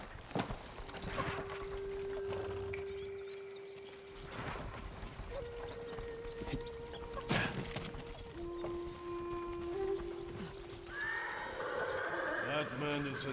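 Horses neigh and whinny several times over a steady ambient background in the video game Ghost of Tsushima, with occasional hoof clops and a brief high chime near the end.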